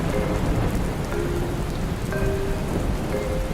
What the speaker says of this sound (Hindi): तुम दोनों बारिश देखो